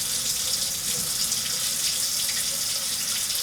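Water runs steadily from an RV tap fed by the pressurized storage tank, a constant close hiss and splash with no pump noise and no voices.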